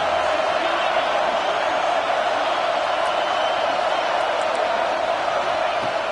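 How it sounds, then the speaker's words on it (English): Steady roar of a college football stadium crowd during a red zone defensive stand, a continuous wash of noise with no breaks or distinct cheers. "The noise. This crowd is trying to inspire this defense to make a big red zone stop."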